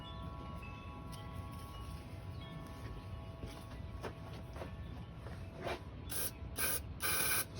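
Aerosol can sprayed onto a Honda 300 Fourtrax ATV in a quiet garage, faint hissing with light mechanical clicks, then several short louder spray bursts near the end.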